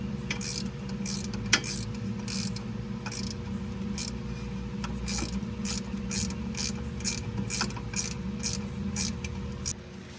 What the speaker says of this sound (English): We need this wrench going first. Wrench on there, hold it in place with that Allen.